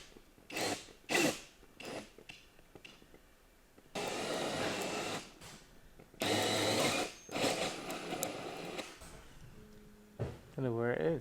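A drill boring a bolt hole straight through timber during a tiny home renovation, running in two sustained bursts of a few seconds each, close and loud, with brief speech before and after.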